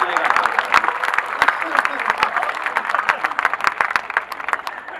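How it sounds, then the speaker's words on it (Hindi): Audience applause at a Hindi comedy poetry gathering (hasya kavi sammelan), a dense run of sharp claps rising and falling throughout, loud and close, with crowd noise mixed in. "तालियां एक बार जरा खुल के फिर पता चलेगा।"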